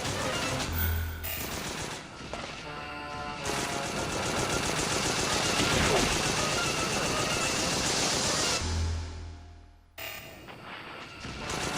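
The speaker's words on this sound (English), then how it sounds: "See, that one's shooting at us." Enemies shooting in a video game, with rapid sustained gunfire and bursts forming a dense, loud barrage for most of the stretch before cutting off briefly and resuming.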